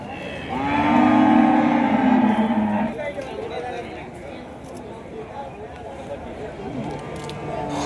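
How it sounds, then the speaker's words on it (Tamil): A cow moos loudly and close by, one drawn-out call lasting a couple of seconds, at a cattle market dealing in Kangayam native cattle, followed by someone talking over a faint background murmur. "இங்கெல்லாம் மாடுகள் பிடிச்சி கட்டியிருக்காங்க."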